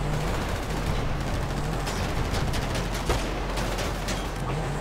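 Rapid bursts of gunfire from another player in Grand Theft Auto V Online, dense and continuous rattling shots packed together at steady loudness with no pause and no voices.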